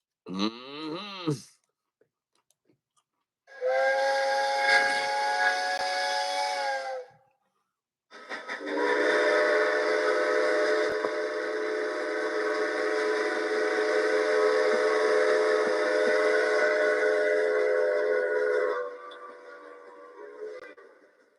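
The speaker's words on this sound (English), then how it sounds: "hear the whistle blowing all around the bend" A passing train sounds its whistle: a short wavering tone, then two long, loud, steady blasts separated by a brief pause, the second one sustained for around ten seconds before stopping.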